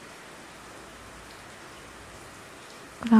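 Steady rain falling on a surface at night, an even soft hiss that holds for about three seconds before a brief louder rustle near the end.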